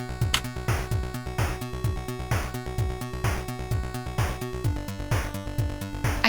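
Chiptune notes from a WASM-4 fantasy console program written in C, switching to a new tone mode every three notes; a busy, evenly pulsing run of buzzy synthetic tones with a ticking beat, steady and loud without any voice.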